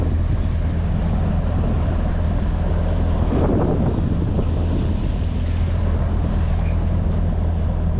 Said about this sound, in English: The wind is blowing about 900 miles an hour.